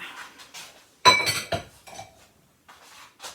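Kitchen utensils such as a spatula and measuring spoons clink and clatter as they are cleared off a work surface while making peanut cookies: one loud close clatter of metal and crockery followed by a few lighter knocks.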